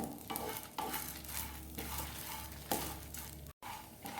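Grated coconut and spice masala fry and get stirred in a pan for a Chettinad chicken paste, giving a steady dense sizzle with scraping strokes of a spoon and a brief gap near the end; no one speaks.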